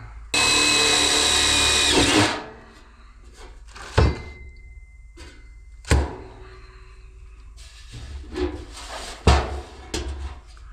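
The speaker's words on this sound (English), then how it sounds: "I think I'm just gonna drill a hole in that." A power drill whirs loudly for about two seconds and then stops, followed by a few sharp knocks and clatters of handling.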